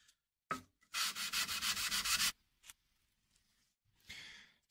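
Close, rhythmic strokes of 240-grit sandpaper polish steel jointer blades in a fast burst of about ten scrapes, followed by a few isolated rubs and a softer final pass.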